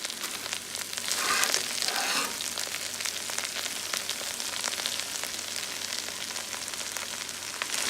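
Kale and red cabbage sizzle and crackle steadily in a hot pan while being mixed, with a brief louder burst of frying early on and continuous close spitting throughout.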